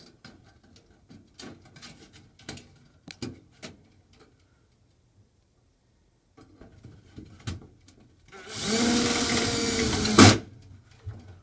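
Scattered clicks and taps of handling parts while fitting a light fixture, then a short burst of a powered driver running a self-tapping screw in, loud and close for about two seconds.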